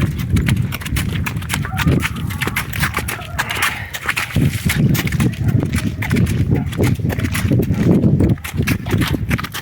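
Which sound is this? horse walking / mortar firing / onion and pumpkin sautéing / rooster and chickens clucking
horse walking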